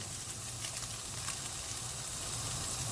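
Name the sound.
minced meat sizzling in a pan for bolognese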